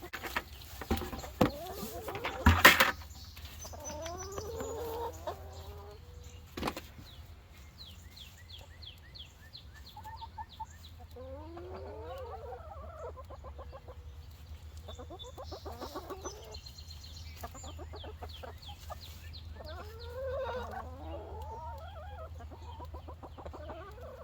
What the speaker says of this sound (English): feed the weeds to the chickens, because then it gives them purpose